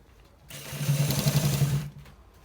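A sewing machine runs a steady stitching burst while sewing a designer shirt collar, its fast rhythmic whir rising after a quiet start, holding close and even for about a second and a half, then cutting off.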